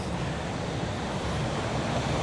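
Surf breaking on a dangerous ocean shore off Tenerife, a steady broad wash of waves mixed with wind rumble, continuous and fairly loud with no voices.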